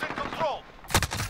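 A single sharp sniper rifle shot in Modern Warfare rings out near the end of the clip, loud and sudden, after a stretch of quieter game sounds.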